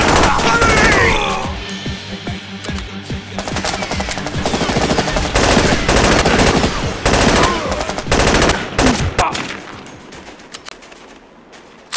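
Gunfire in the video game SAS: Secure Tomorrow: loud, rapid automatic bursts and repeated shots fill most of the stretch, easing off toward the end.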